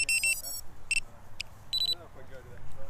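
Short high-pitched electronic beeps in quick bursts from a Hellgate drone lost-model buzzer, some repeated, over a low hum with a person talking nearby.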